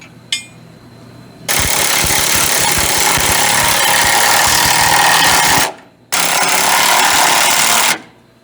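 A power tool works on sway bar bushings on a Chevrolet C30 truck, two long loud rattling bursts close by, separated by a short pause, with a small click at the start.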